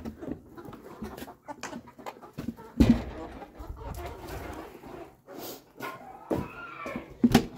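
Backyard chickens cluck and squawk while being fed corn and layer mash, scattered close clucks and a few sharper calls amid rustling and handling noise, with no clear talk.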